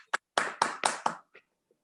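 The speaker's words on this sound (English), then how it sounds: "let us all give a big round of applause to our speaker," Sparse hand claps for a speaker at a virtual Toastmasters meeting: about five crisp, close claps in an uneven burst, then a couple of faint trailing taps before silence.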